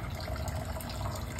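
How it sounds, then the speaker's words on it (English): Water pouring and gurgling into the reservoir of a hydroponic tower, a continuous close splashing fill with no talk over it. "the top one is getting water in there"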